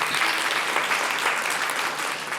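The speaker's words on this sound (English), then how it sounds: "let's give a round of applause to all the board members in this room" A room of nonprofit conference attendees applauds board members, an even wash of many hands clapping continuously at moderate level with no voices over it.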